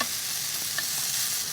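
Deodeok root sizzles steadily in a hot pan while grilling, a continuous close crackling hiss with faint stirring and no voices.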